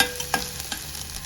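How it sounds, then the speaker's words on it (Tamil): Frying in a pan for a coconut milk butter beans masala, a soft sizzle with a few quick spatula clicks and scrapes, close up and brief, no voices. "இப்போது ஓரளவு வதங்கட்டும்"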